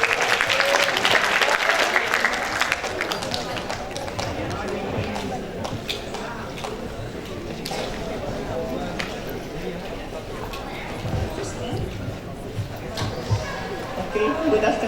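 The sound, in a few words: audience applause for a speaker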